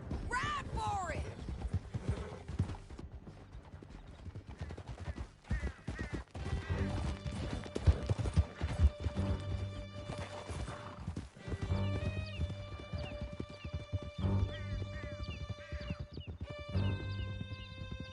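Horses gallop with rapid clip-clopping hooves and occasional neighs in Red Dead Redemption 2, a game with riders fleeing through a canyon, punctuated by crashes and game music, with voices talking over parts of it.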